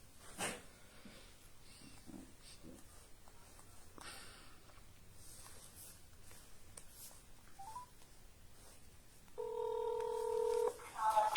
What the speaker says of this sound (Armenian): Հիմա մուսորներին զանգենք